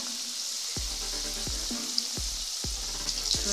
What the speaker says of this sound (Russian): И будем обжаривать с обоих сторон